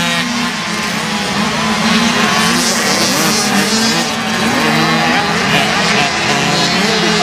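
Several 50cc racing karts scream past on a track at a Cessnock race meeting, their high-pitched two-stroke engines loud and continuous, with a commentator talking over them.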